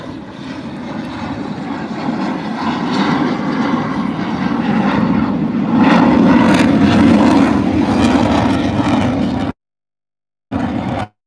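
F-16 Viper fighter jet flying slowly at an air show, a loud, broad roaring engine wash that swells toward the middle, then a brief cut and resumes.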